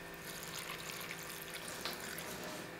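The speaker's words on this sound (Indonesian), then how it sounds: "Kita tambahkan air." Water pours into a blender holding a spice paste of garlic, shallots, galangal and lemongrass, making a soft, continuous splashing trickle that stays fairly faint and close throughout.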